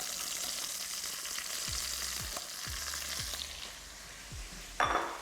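Peeled pickling onions and button mushrooms fry over high heat in a pot, a bright steady sizzle with several soft stirring thumps and a small clink near the end, with no talking.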